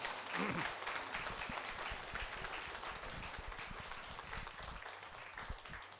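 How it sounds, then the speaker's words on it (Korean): Audience applause fills a church hall, a dense steady wash of many hands clapping that carries on without a break throughout. "큰 박수로 감사 드리겠습니다"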